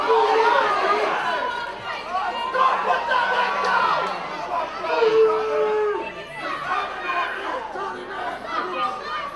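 A wrestling crowd chants in a rhythmic, repeating pattern under close commentary, the mass of voices steady and moderately loud throughout.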